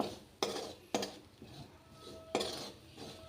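A utensil stirs paneer curry with spices in a pan, giving a few sharp scraping clinks in an uneven rhythm, close and fairly quiet, with no talking.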